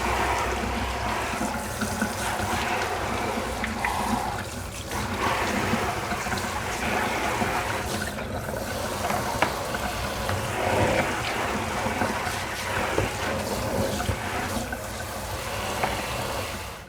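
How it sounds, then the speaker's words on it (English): Running water rinsing plastic microgreen trays, a steady close splashing and trickling stream that continues throughout with small shifts as the trays move. "now I just gotta give them their final rinse"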